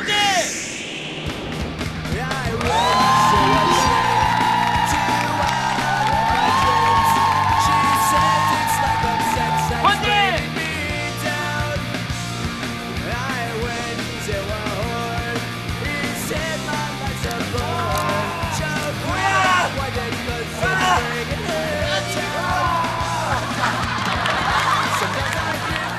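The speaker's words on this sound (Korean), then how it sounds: "비명 소리가 이까지 들립니다." People scream in a loud, sustained chorus during a bungee jump on a Korean TV show, with shrieks and whoops rising and falling together and cheering voices mixed through.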